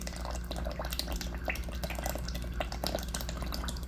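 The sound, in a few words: buttermilk being poured into a mixing bowl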